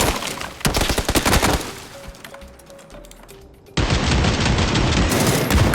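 Rapid bursts of gunfire in PUBG crackle in quick succession, then a quieter lull with a faint tone before a dense, loud wash of noise resumes.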